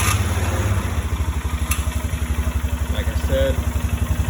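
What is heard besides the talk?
2012 Polaris Sportsman 500 HO ATV engine running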